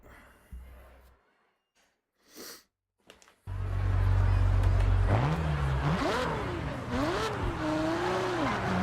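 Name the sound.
car engine and tire squeal in Forza Horizon 6 video game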